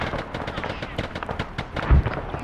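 Gunfire in a tactical military shooter game: rapid rattling bursts of automatic shots and scattered pops, with a heavier thump near the end, loud and close under a busy battlefield background.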